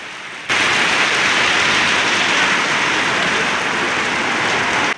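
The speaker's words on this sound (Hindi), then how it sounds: "बाद अज़ां मूसलाधार बारिश का सिलसिला शुरू हो गया।" Heavy torrential rain pours down over a town, a dense, loud, unbroken roar of drops hitting surfaces that starts abruptly and holds steady for several seconds, with no voices.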